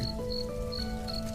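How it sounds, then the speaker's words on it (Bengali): Crickets chirp at night in open countryside, with village houses far off. A steady, close, continuous insect trill repeats in short pulses, and no voices are present. "ঝিঝি পোকার ডাক শোনা যাচ্ছে।"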